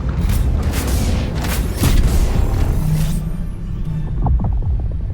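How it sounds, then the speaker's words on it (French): Orbital thrusters engage in Helldivers 2 with a loud, deep rumbling roar and heavy booms, then ease into lower creaking mechanical rumbles. "Propulseurs orbitaux engagés."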